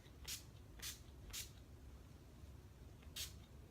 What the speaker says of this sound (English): And then I'm taking my NYX Matte Finish setting spray.